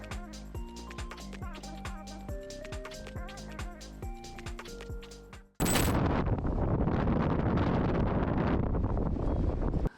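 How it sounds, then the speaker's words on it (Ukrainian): Snowstorm wind howls across a ski slope at Bukovel. Music plays at first, then cuts to loud, constant roaring gusts buffeting the microphone. "На старті здійнялась справжня снігова буря, людей майже зносив сніговий вітер."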